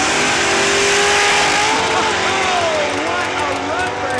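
1978 Volvo wagon with a swapped-in LS6 V8 roars loud and close down a drag strip, a sustained high engine wail with rising pitch sweeps as it pulls through gears.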